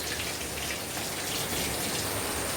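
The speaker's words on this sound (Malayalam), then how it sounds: "ഇതുണ്ടോ എന്തോരം മഴയാണെന്നറിയോ" Heavy rain pours down in a dense, steady hiss of countless drops, loud and close, with no break and no voices.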